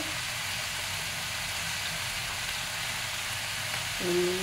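Chicken sautés in a pan for a Bengali red spicy curry, giving a continuous close sizzle and hiss. A short low tone joins near the end.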